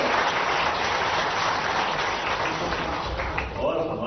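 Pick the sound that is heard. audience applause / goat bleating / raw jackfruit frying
audience applause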